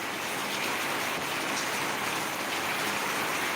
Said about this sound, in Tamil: நல்லா இதமாக மழை பெய்யுது